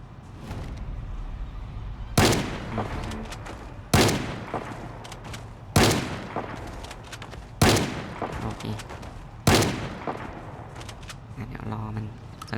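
Gunfire in the Project Zomboid video game: five loud, sharp shots spaced about two seconds apart, each followed by a short decaying tail, over a low steady background hum.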